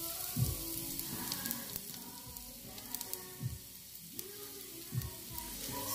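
Two onion eggs frying in olive oil in a pan, a steady close sizzle with soft pops and crackles running throughout, no voices.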